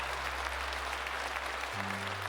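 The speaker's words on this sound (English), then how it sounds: "let's get a huge round of applause for One Sleep 24" Brief crowd-style applause, steady clapping over a low droning tone that shifts in pitch near the end.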